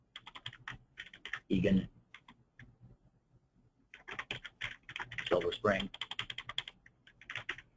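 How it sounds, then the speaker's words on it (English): Quick keystrokes on a computer keyboard while building a presentation in PowerPoint, clicking in short bursts with pauses, mixed with a person talking over the typing. "every time that I start typing and press Enter, I'm creating a new slide in the presentation"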